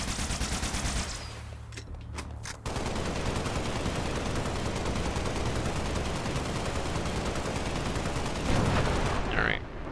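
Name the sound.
needler weapon firing in the video game Halo: Spartan Assault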